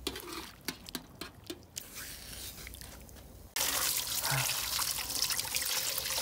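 Water rinsing a scalded white eel clean: soft intermittent drips and splashes at first, then a sudden steady rush of running water that trickles on continuously, close and moderately quiet.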